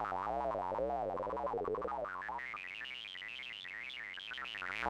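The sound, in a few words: randomized synthesizer tones from ZIM Synth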